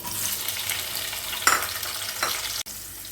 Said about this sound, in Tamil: முதல்ல இந்த லேடிஸ் ஃபிங்கரை ஃப்ரை பண்ணி எடுத்துக்கலாம்